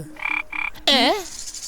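A green frog croaking: two short buzzing calls followed by a longer, louder warbling croak that rises and falls, close and alone.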